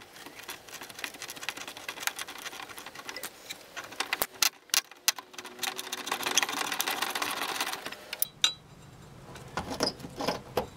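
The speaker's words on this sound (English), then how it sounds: "I've got a 1/4 inch ratchet and a 5/16 inch socket." A 1/4 inch ratchet with a 5/16 inch socket loosens fuel tank hose clamps on a GMC Jimmy or Chevy Blazer, giving rapid close clicking bursts with sharp metallic snaps and clanks and no talk.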